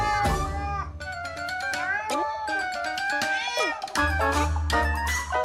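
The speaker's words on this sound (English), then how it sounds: "This cat changes its voice in a flash." A cat meows continuously and loudly, shifting pitch and tone from call to call in a varied, almost talking sequence, close to the listener with no other voices.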